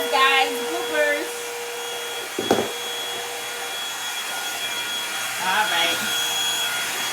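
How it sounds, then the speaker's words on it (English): A hair dryer blowing on a wig, a steady airy whir running throughout at moderate level, with a sharp knock partway and a few short spoken words over it. "Blow dry."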